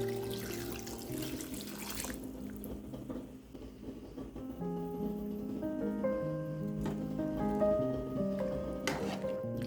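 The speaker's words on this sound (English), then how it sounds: "Pour water over the potatoes and add a pinch of salt." Water runs into a cooking pot of potatoes in a home kitchen, a steady splashing pour that lasts throughout, close and fairly loud, with faint kitchen clatter and no talk.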